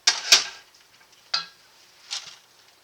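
Oats stirred into a hot melted peanut butter mixture with a spoon scraping the pot, a few distinct clinks and scrapes with quiet gaps between, close and fairly soft, no talking.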